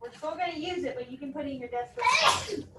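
A person speaks briefly, then a single sharp sneeze bursts out nearby at the end.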